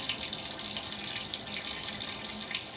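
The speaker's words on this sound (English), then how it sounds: "this has been running for a while, so I'm going to put the stopper back in and let it fill up with water" Steady water pouring from a tap into a bathtub with a drain being cleared, a constant bright rushing hiss without pauses or speech.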